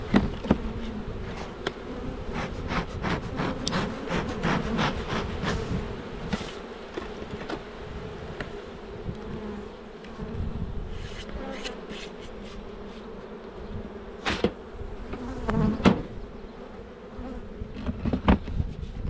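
Steady buzzing of many honeybees around a hive, dense and continuous, with occasional louder bees passing close to the microphone.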